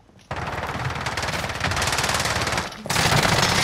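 Rapid automatic gunfire from a first-person shooter video game rattles in loud sustained bursts, with a brief pause before a second burst starts.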